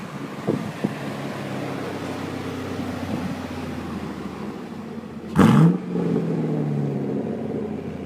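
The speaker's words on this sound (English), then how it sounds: "We're going to do some off-roading in this beauty, the Legacy Classic Trucks, NAPCO Chevrolet." A Legacy Classic Trucks NAPCO Chevrolet truck driving off-road, its engine a steady close rumble, with a couple of sharp knocks early on and a loud revving surge about two-thirds through that settles back to a deeper drone.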